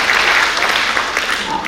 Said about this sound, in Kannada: ದಯವಿಟ್ಟು ಅವರಿಗೊಂದು ದೊಡ್ಡ ಚಪ್ಪಾಳೆ ಕೊಟ್ಟು ಸ್ವಾಗತಿಸಬೇಕಾಗಿ ವಿನಂತಿಸುತ್ತೇನೆ.